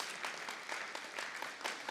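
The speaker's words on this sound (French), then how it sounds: "Comment on a une bonne main d'applaudissement?" A church congregation in Quebec claps together in a dense, steady burst of applause that fills the whole short moment, with no speech over it.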